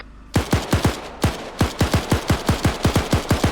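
Rapid bursts of gunfire in the Arma military game, a dozen or so loud sharp shots in an uneven rhythm after a brief quiet start, some in quick pairs, close and alone with no talk.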